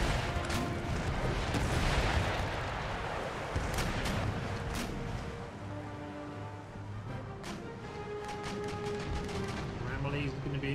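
Musket volleys and artillery fire crackle through a large battle in Empire: Total War, with dense overlapping shots and booms sustained under a speaking voice.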